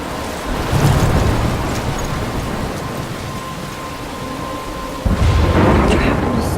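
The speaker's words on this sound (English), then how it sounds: "I'm trapped in a storm." Thunderstorm in the Life is Strange video game: steady heavy rain hisses throughout with low rumbling thunder, and a sudden louder roll of thunder bursts in near the end.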